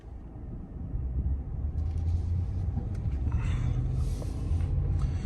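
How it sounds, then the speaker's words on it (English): Low engine rumble from a 2021 Ram 1500 Warlock pickup with its 5.7-liter Hemi V8 accelerating, heard from inside the cabin as a steady deep drone that builds slightly with faint creaks over it. "And now let's go do a acceleration test."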